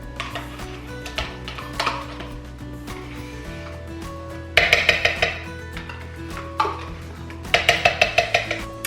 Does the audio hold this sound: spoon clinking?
yes